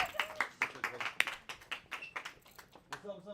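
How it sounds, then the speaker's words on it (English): Lively applause from an audience, a burst of many hands clapping with a few sharper claps standing out, steady throughout. "give Josh Earl a round of applause"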